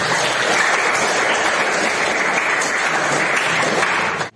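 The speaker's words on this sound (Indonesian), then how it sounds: "Tepuk tangan." Classroom applause during an Indonesian language lesson, a dense steady wash of many hands clapping together for about four seconds before stopping abruptly.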